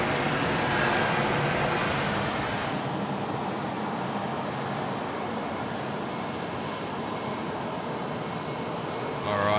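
A Boeing 717 airliner at Sydney Airport roars as it taxis or takes off, a loud, steady broadband jet rumble that eases slightly after a few seconds.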